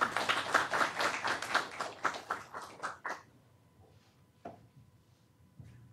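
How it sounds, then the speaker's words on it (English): Conference audience claps at closing remarks, a brief, fairly close burst of handclaps that tapers off after about three seconds, followed by near silence broken by a couple of stray knocks. "please give yourself a round of applause"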